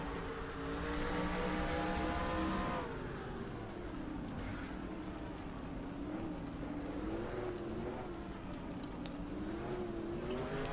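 A race car engine in the NR2003 racing game holds full throttle, a loud, sustained whine that rises and falls slightly with the revs, shifting pitch partway through as the car powers on.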